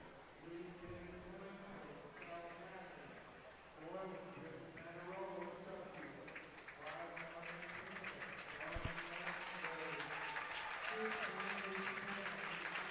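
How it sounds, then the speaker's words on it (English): Spectators at an East Coast track invitational cheering athletes, a faint, distant crowd roar under a commentator's steady speech, swelling slightly toward the end. "You can hear a little bit of that crowd noise if we bring it in"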